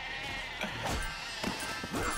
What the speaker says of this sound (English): Look at all those sheep.